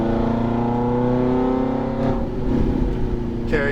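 A Ferrari F430 F1 on a racetrack gives a loud, steady engine drone with strong tonal harmonics that shift slightly in pitch, and a brief voice cuts in near the end.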